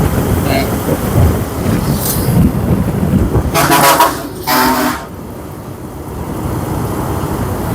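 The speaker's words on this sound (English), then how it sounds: "They will honk to let you know they are there and they are not moving." Vehicle horns honking on a busy road in northern Vietnam during a motorbike ride: two loud close toots in quick succession over a rushing traffic and wind roar.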